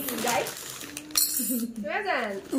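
Light clinks and clatters of dishes and glassware, close by, while someone talks over them.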